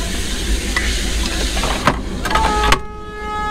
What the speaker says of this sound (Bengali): ভালো জোরে বৃষ্টি পড়ছে